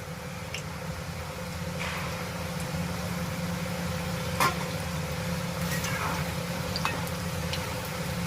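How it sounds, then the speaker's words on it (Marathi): Salty shankarpali dough pieces frying in hot oil: a soft, steady sizzle with a low hum underneath and a few faint pops. "खाऱ्या शंकरपाळ्या ज्या आहेत त्या गरम तेलामध्ये सोडूया"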